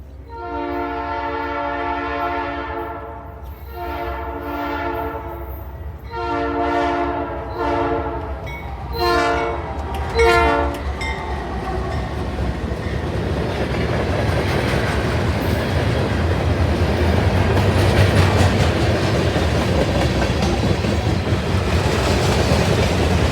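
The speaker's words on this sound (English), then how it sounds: "the train was NS153 with an AC44C6M leading number 4621 with a very foul horn." A Norfolk Southern freight train, a general manifest led by an AC44C6M locomotive with a harsh, sour horn, sounds a series of long and short blasts at close range, then roars past with rumbling wheels and clattering cars.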